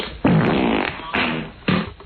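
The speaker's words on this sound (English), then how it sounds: "Let me hear the fart." Recorded fart sounds played on a 1994 radio show: three loud, close, buzzing blasts with short gaps between them.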